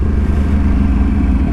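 A Yamaha MT-07 motorcycle's engine roars loud and close as the throttle is cracked open in second gear for a wheelie, a dense, low, steady rumble for a moment without any voices.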